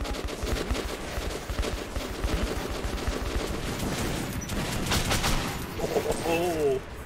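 Rapid, sustained bursts of gunfire from the video game Metro 2033, loud and close, with dense overlapping shots throughout and a voice speaking over the final moments.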